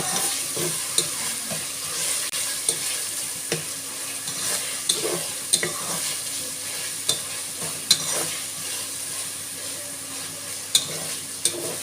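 Ginger garlic paste sizzling steadily as it fries in a pan, with a spoon stirring and scraping the bottom at irregular intervals, close and fairly loud with no talking.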